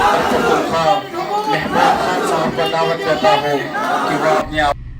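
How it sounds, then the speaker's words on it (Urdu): A large crowd of voices chants political slogans together at a chief minister's visit, loud and close, rising and falling in rhythmic bursts. "امپورٹڈ حکومت نامنظور کے نعرے فضا میں بلند ہو گئے"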